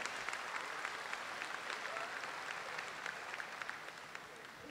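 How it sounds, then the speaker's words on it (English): An audience applauds ringside at a Holstein dairy cow show, a faint, steady patter of many hands heard from a distance throughout. "I thank you all to give this class one more round of applause right to the bottom."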